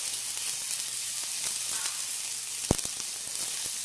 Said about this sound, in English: Pan's going. We're going to add our onions.